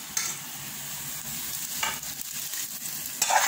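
Sauteed cumin tadka is poured into dal and sizzles loudly and continuously, with a few scraping bursts from the pot near the end and no talk.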